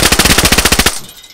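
Rapid automatic gunfire in the survival game DayZ, about a dozen loud close shots in an even burst that stops abruptly.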